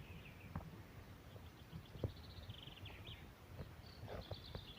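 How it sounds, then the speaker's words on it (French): Birds sing outdoors in nature, scattered chirps and short high trills rising over a soft, faint background of ambient noise, with no talk. "Vous entendez le chant des oiseaux?"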